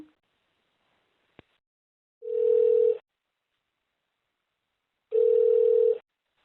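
Telephone tone after a call is hung up, two identical steady beeps about three seconds apart, each lasting just under a second, clear and close in an otherwise quiet line, preceded by a faint click.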